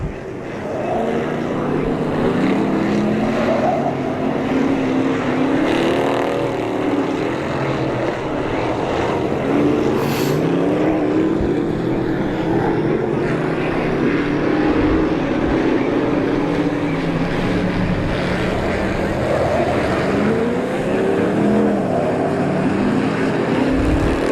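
Sportsmen Modified race cars roaring through turn one at Devil's Bowl, a dense, sustained engine drone that swells and fades as cars pass in traffic, with a brief sharp high whine partway through.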